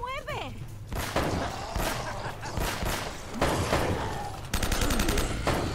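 Bursts of gunfire in the video game Uncharted, with several rapid volleys and an automatic rifle rattling near the end, mixed with game sound effects.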